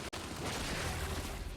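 Dense, continuous gunfire from the Gears 5 video game during an esports match, a rough sustained burst of shots with a brief break near the start.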